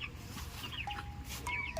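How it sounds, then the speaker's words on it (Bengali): Chickens on a poultry farm give soft, short clucks and brief calls at moderate distance over a steady background hum, with no one speaking. "আর উপরেও আছে মুরগি"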